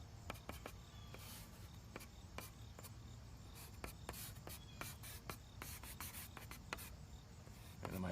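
Pastel pencil strokes on paper, a steady close-up scratchy rubbing with quick repeated marks throughout, fairly quiet and without talk.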